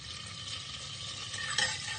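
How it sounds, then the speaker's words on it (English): Butter melting and sizzling in a pan while starting potato leek soup, a steady bright crackle and hiss that holds throughout with a slight swell near the end, no talking. "A lovely sizzle from that."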